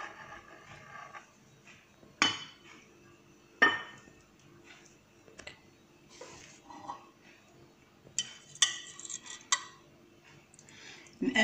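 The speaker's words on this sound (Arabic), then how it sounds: "الآن نقطع أنايا البريوش ونرملكم في صحن التقديم" Brioche being cut and set onto a serving dish, with scattered clinks and knocks of a knife and plate, soft scraping between, quiet and close with no talk.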